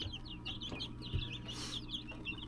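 Young quail chicks around two weeks old peep and chirp in a tarp-walled vertical brooder, a steady run of high, overlapping calls with a soft low rumble underneath.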